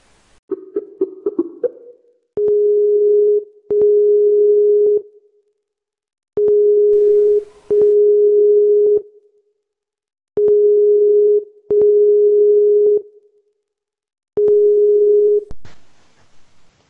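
A telephone ringback tone repeats in paired, steady buzzing bursts with short silences between them, heard alone after a few soft clicks, while someone calls team captains during a League of Legends grand final event in New Zealand.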